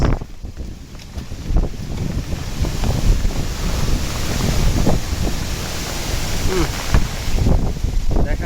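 Strong wind from a rainstorm buffets the microphone beside a village pond in a continuous, roaring rush that swells and fades, with faint indistinct voices now and then underneath.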